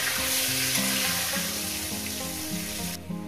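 Potato pieces fry in hot oil for a stew of cauliflower and chicken, giving a loud, steady, close sizzle that runs the whole time and drops off slightly near the end, with no voices.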